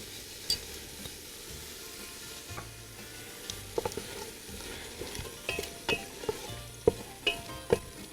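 Onions going into a hot pan for a Greek lamb stew (manestra), giving a low steady sizzle with stirring and a series of sharp utensil clicks and scrapes toward the end, close and fairly quiet.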